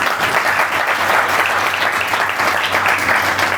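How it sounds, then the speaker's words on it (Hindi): Steady, loud applause from a congregation at a religious talk, a dense continuous patter of many hands with no pauses, carrying on without speech. "इन्हां लई तालियां लाओ बई"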